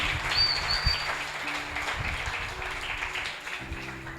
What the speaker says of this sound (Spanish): Un aplauso a los jóvenes que están aquí.